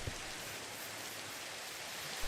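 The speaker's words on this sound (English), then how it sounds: "It's a rainy day." Steady, even rain hiss fills the scene without a break, a soft constant wash of falling drops heard during a Minecraft session, with no talking.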